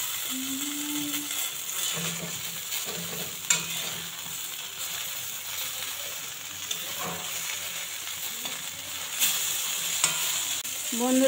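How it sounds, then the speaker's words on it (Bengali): Eggplant slices fry in a pan for begun bhaja with a steady, even sizzle and a few faint clicks and scrapes of stirring, with no talk. "বেগুন ভেজে নেব এবার"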